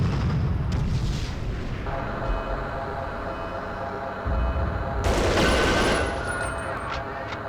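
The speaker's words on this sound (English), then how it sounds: "Oh, is somebody shooting?" Gunfire from the Medal of Honor Underground video game, a steady crackle of shots under a continuous game soundscape, with a louder burst near the end.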